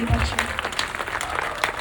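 A church audience breaks into a short burst of clapping, a dense patter of hands with a voice audible over it.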